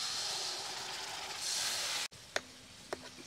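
Ground masala paste hits hot oil with fried onions in a pot over a wood-fired clay stove for crab curry, giving a loud steady sizzle that cuts off abruptly, leaving a quieter scene with a few clicks.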